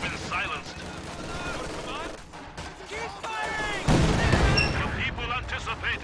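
An artillery barrage in the Company of Heroes 2 war game brings a string of booming impacts and gunfire bursts, with in-game voices calling out over the shelling.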